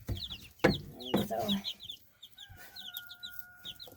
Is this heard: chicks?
yes